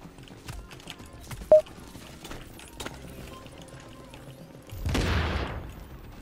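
A grenade bursts in The Division's Dark Zone, a broad roaring blast near the end following scattered faint shots and clatter, with one sharp crack early on.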